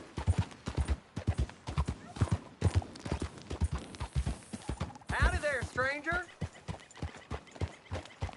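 Horse hooves clip-clop in a Western open-world game, steady rhythmic steps under frequent conversational dialogue, with a horse whinnying briefly near the middle.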